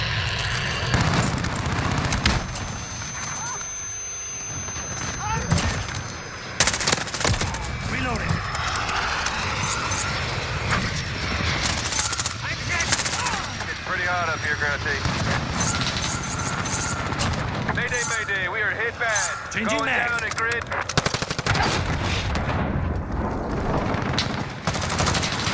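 Gunfire in a first-person shooter video game: bursts of automatic fire and single shots crackle in quick clusters, with booms and explosions mixed in and a voice talking over the action.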